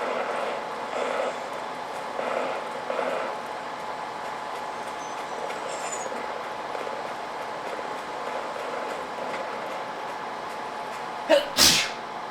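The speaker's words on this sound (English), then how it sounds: "Although I feel like that's often how it is with sneezes." One sharp, loud sneeze bursts out near the end, after a long stretch of quiet room hum with faint background sounds from a laptop game session.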